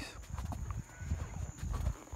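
Horse hooves clip-clop steadily on a late-afternoon ride near a reservoir, a moderately close, rhythmic walking beat with faint background sounds.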